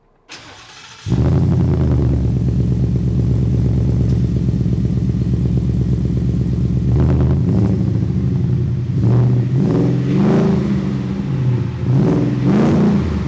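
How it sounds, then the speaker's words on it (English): A 1969 Ford F-100 pickup engine cranks briefly, catches and settles into a loud, close, steady idle, with a few throttle blips swelling the rumble toward the end. "Now what we're gonna do is turn the car over."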